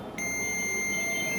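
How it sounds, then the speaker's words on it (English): A multimeter in continuity mode sounds one steady, high electronic beep with its probes on the source and drain of a shorted MOSFET, starting abruptly and holding unbroken to the end. "If the multimeter beeps like this, this means that our MOSFET is shorted."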